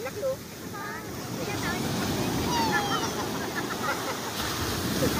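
Choppy open sea churns around a fishing boat near a river mouth, with steady broadband wash and rumble, wind buffeting the microphone and faint whistling squeaks over the top.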